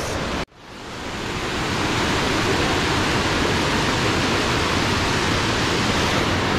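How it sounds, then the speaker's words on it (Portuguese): Guarumos waterfall in Mindo, Ecuador, a steady, dense roar of falling water that starts abruptly after a brief gap and then holds loud and unbroken, with no voices. "Segunda cascata, Cascata Guarumos."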